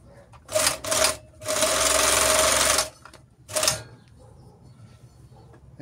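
An Overlock FN10 serger stitches fabric in several loud, fast whirring bursts of different lengths, the longest lasting over a second, with short pauses between them and no talking.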